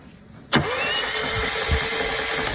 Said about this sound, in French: mets un coup de démarreur pour voir